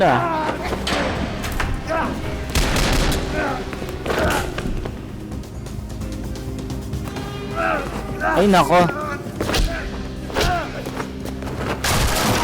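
Bursts of gunfire and thuds crackle over a busy TV action drama soundscape, with a person exclaiming briefly amid the shots.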